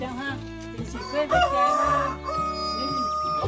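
A rooster crows loudly and close by, a drawn-out call, over a steady background of music or other sustained tones.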